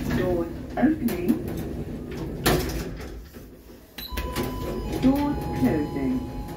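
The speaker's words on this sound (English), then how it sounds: "Doors opening." The doors of a small Stannah lift in a Matalan store in Cheltenham slide open with a brief mechanical rumble and clunk, while a voice speaks over it.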